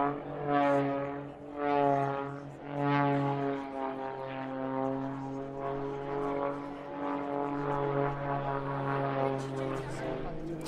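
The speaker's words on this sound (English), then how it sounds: "Rich ends his show with his traditional knife-edge pass nonetheless." An aerobatic plane's propeller engine drones through a knife-edge pass at a coastal airshow in a curved bay, a strong harmonic buzz that swells and fades in repeated waves as the aircraft passes, with a voice talking over it.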